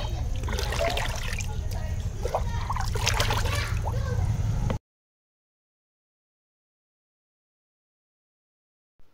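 Liquid fertilizer made from ground banana pours and splashes into a 25-litre bucket, a steady close trickle for several seconds that then stops abruptly into silence.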